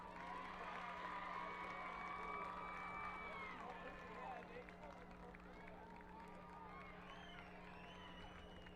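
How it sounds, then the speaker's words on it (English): A stadium crowd at a 2022 high school football homecoming between West Scranton and Lakeland claps and cheers for the homecoming king and queen, a dense, sustained roar of applause and shouting that stays steady throughout, with voices mixed in. "Let's have one more round of applause for the 2022 homecoming king and queen"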